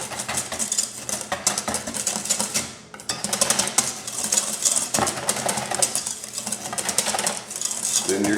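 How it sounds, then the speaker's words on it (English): Ranch dressing is whisked briskly in a bowl, a fast, continuous clattering scrape of whisk against the sides, close and loud, with a brief pause partway through. "And then we're going to give that a good whisk so it's all mixed up."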